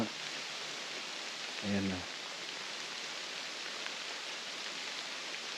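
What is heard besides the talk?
light rain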